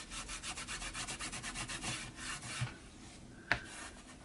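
Fabric ends glued onto a junk journal cover being rubbed down by hand, a soft, close, steady rasping stroke repeated rhythmically, then easing off with a couple of small taps near the end.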